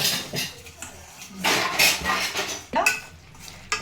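A utensil stirs and scrapes jaggery in a pan to keep it from burning, with irregular clinks and scraping strokes against the metal, close and fairly loud, while someone talks.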